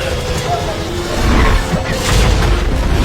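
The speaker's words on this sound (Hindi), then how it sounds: "अगले ही पल जोरदार विस्फोट हुआ।" A loud, deep boom from an explosion aboard a sinking ship in the movie Poseidon rolls on for a few seconds, with a rumbling low end.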